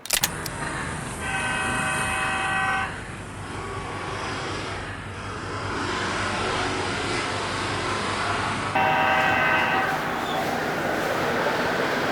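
A model intercity diesel train hums and rattles along a model railway layout track with a steady low mechanical whir, while faint tonal beeps or horn-like notes sound at intervals.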